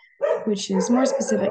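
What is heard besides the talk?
dogs barking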